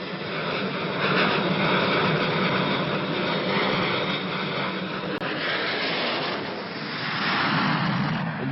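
Military aircraft engines from bombers in Vietnam give a loud, steady roaring drone that holds throughout, swelling slightly near the end, with no voices.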